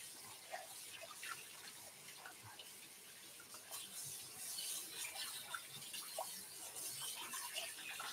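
Tap water running to rinse lye off a cast iron pan, a soft continuous splashing and trickling stream with small drips, fairly faint and heard alone.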